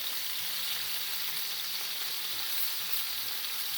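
Chicken pieces sizzle steadily in a frying pan while being seared, a continuous loud hiss of frying with faint stirring and scraping underneath and no talking.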